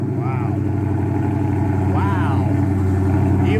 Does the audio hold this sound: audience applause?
no